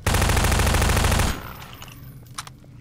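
Rapid automatic gunfire from Half-Life 2 rattles loud and continuous for over a second, then cuts off, leaving quieter game ambience with a couple of faint pops.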